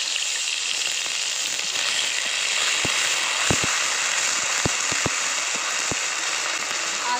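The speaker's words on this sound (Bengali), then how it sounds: "আদা রসুন দিয়ে একটু ভালো করে ভেজে নিলাম।" Ginger garlic paste frying in oil in a kadai gives a steady soft sizzle, broken by a few sharp clicks of a utensil against the pan, heard up close with no talking.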